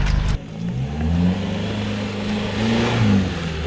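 An Isuzu D-Max engine labours up a wet, muddy off-road track, revving in a steady, rising and falling drone after a sharp opening burst, close and loud, with no talking.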